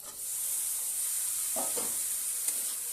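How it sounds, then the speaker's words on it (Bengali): Tomatoes and green chillies sizzle in a hot pan with salt, a steady bright hiss throughout with a couple of brief stirring scrapes partway through, close and alone without talk. "এবার এটাকে ভেজে নেবো ভালো করে।"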